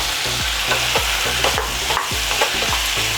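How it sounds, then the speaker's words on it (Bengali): Chicken, potatoes and carrots stir-fried in a pan for chicken stew, a loud close sizzle punctuated by a rapid regular rhythm of scraping spatula strokes, no voices. "চিকেন আলু গাজর দিয়ে ঠিক 2-3 মিনিট আমরা কষিয়ে নেব।"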